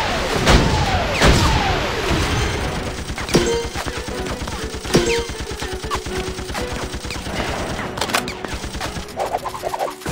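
Rockets and heavy weapons firing in the Mighty Battles video game, a loud, dense barrage of repeated booms and rapid thumping blasts that runs throughout with sweeping whooshes layered on top.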